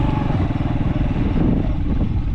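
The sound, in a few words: motorcycle engine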